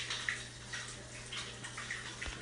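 Hands being rinsed under running water while kneading roti dough in a home kitchen; a soft, steady trickle with faint splashes, quiet and close, with no talking.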